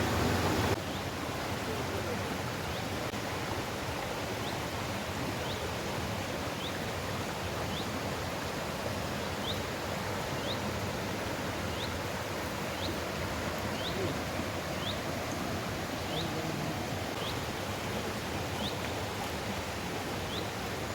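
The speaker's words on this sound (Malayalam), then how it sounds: "ഒരു ചെറിയൊരു അരുവിയുടെ കരയിലാണ് ഞാൻ" A small mountain stream flowing beside a trekking trail, a steady, even hiss of running water throughout, with faint repeated high chirps in the background.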